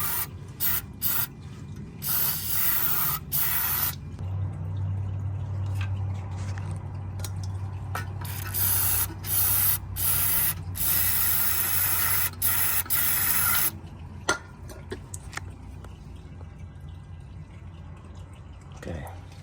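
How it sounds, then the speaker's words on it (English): Several short hissing bursts of cleaner sprayed close by while servicing a Mitsubishi Lancer ABS unit, with rubbing and mechanical clicking between them and a low steady hum underneath. "So you can spray a little bit."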